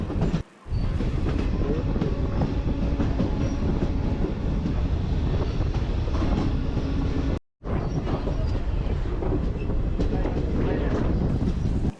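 Narsapur to SMVT Bengaluru train 07153 rolling along the rails at about 80 to 90 km/h, a loud, steady rumble with rhythmic wheel clatter that drops out briefly twice.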